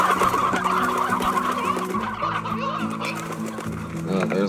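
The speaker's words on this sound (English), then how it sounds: "There's like a crap ton of chickens in the coop right now." Chickens clucking in a coop in the video game Slime Rancher, a busy overlapping chorus of fowl calls layered over steady game music, continuous and fairly loud.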